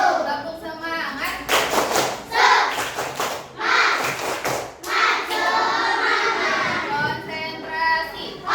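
Children do the rhythmic 'tepuk semangat' clap in a school setting, patterned bursts of claps mixed with chanting voices and loud, busy room sound throughout.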